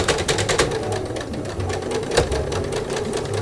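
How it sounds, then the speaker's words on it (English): Sewing machine stitching around a hemp canvas pencil case, a close, fast rattling chatter of needle strokes that runs steadily for a few seconds with no talk over it. "we'll start sewing at one of those pins and backstitch, and then we'll stitch all the way around"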